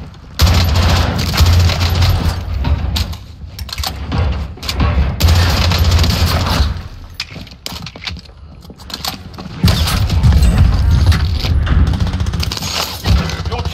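Gunfire in Warzone on Rebirth Island, with dense bursts of automatic fire and booming shots that come in several loud waves over steady battle noise, without talk.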